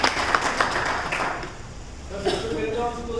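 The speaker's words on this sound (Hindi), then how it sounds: "थैंक यू सो मच, जोरदार ताली सर।" Audience applause in a Hindi talk-show setting, a dense wash of clapping that runs through the clip with a few sharper claps near the start and fades toward the end.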